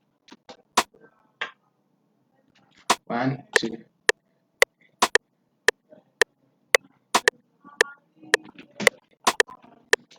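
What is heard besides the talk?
rim shot drum sample in FL Studio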